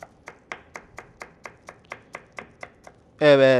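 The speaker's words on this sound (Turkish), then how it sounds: "Minik minik doğrama işlemine devam edelim." Knife finely chopping food on a board for soy-sauce chicken chops, about a dozen quick, evenly spaced crisp taps, followed by a brief loud burst of another sound at the end.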